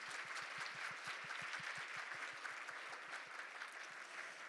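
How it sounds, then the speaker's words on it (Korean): An audience at a science scholarship alumni evening claps steadily, with dense, even applause that holds level throughout with no talk over it. "대한민국 과학의 미래를 밝히고 있는 우리 스스로에게 여러분 큰 박수 한번 부탁드리겠습니다."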